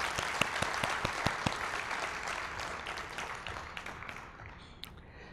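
Audience applause at a university presentation, a run of distinct hand claps building into steady clapping that fades toward the end, fairly quiet and distant with no talk over it.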